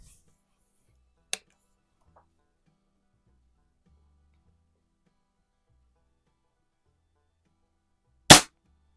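Two sharp airgun shots at targets, a small crack early on and a much louder snap near the end, separated by long near-silence.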